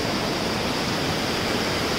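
Rushing floodwater in a swollen stream during heavy Konkan rain in Devgad, Sindhudurg: a loud, constant broadband roar of churning water, close and unbroken, with no voices.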